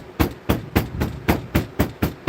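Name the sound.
hammer tapping copper gavel edges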